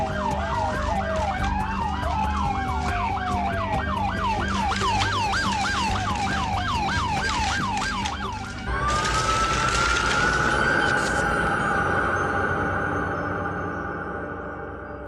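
Ambulance siren wailing in fast repeated up-down cycles, loud and close, then switching to a long steady rising tone over traffic noise.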